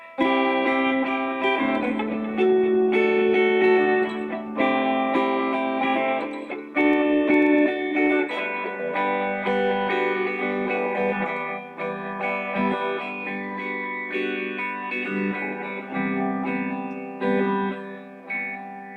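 Sustained amplified electric guitar with effects and reverb, chords ringing loud and continuous for the whole stretch, no voices.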